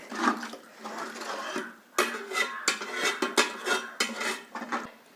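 Chicken curry is stirred in a pan, with a spoon scraping and clinking against the metal in uneven bursts, close and fairly quiet, with no talking.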